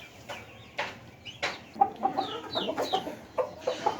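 Hens and a rooster cluck in a backyard poultry coop at a Bangladeshi home, with short repeated clucks and bursts of calls close by, rising and falling irregularly with no one talking.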